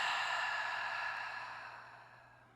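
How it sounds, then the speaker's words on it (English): A long audible exhale through the mouth during a yoga breathing round, one steady breath that starts fairly loud and close, then slowly fades over a couple of seconds, heard alone. "Audibly through the mouth, exhale."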